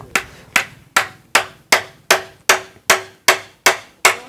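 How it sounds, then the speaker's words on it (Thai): Hammer striking a wooden piece to drive it into place, about eleven sharp, evenly spaced blows in a steady rhythm, close and loud with no talk. "ตอกให้มันสอดก่อนก็ได้"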